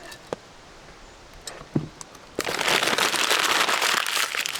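A campfire in the woods by a tiny cabin, with sparse pops for a couple of seconds before a loud, dense crackle and hiss takes over as a pot of beef burger stew is set over the flames.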